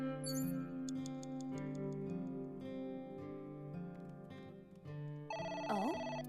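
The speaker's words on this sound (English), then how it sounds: "The phone is ringing." A telephone rings in the AI: The Somnium Files video game, a repeated electronic ring heard alone over soft background music, ending with a brief rising tone.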